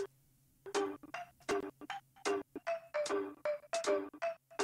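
Bright, chirpy electronic game music from Bob's World, a Mario rip-off video game, with short bouncy melodic notes in a quick irregular rhythm, moderately loud and heard alone.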